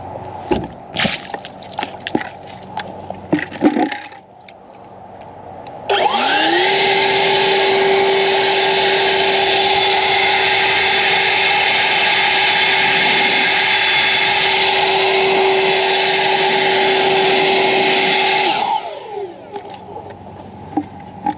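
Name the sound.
EGO 56V cordless leaf blower with drying nozzle running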